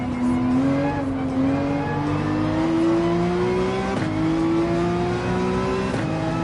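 Racing engine at Daytona in Gran Turismo 7 pulling steadily through long gears, its tone climbing between two upshifts, loud and close, with a Corvette and other cars nearby.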